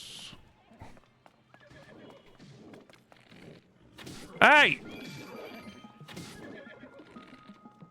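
A horse gives a loud, sudden whinny amid thuds, hoof clatter and impact sounds during combat in a Zelda: Tears of the Kingdom randomizer game, with a person shouting briefly nearby.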